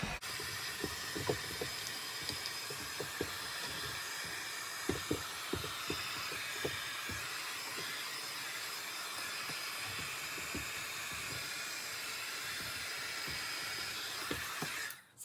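Heat gun blowing hot air over vinyl wrap on a BMW E46 headlight, a steady loud hiss and fan whir held close for the whole stretch, with faint tapping and handling clicks underneath and no talking.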